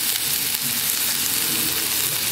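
Spring onions sizzle steadily in a hot pan for a chicken lollipop dish, a close, even, continuous frying hiss with faint stirring.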